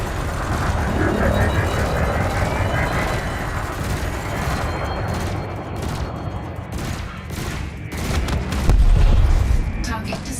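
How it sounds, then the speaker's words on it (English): Rapid multi-cannon gunfire from a ship in the space game Elite Dangerous, a dense sustained burst of shots under game sound effects and soft voices, with a heavier boom near the end. "To continue, bring the craft into your sights and open fire."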